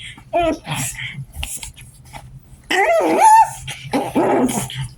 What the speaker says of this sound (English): So these are 2 little foster pugs, and they're very adorable.